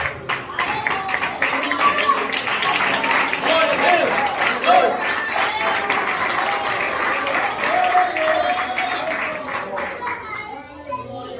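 A church congregation clapping during a Portuguese-language service, loud and close with rhythmic claps, cheering and children's voices mixed in, voices talking over it, then fading near the end.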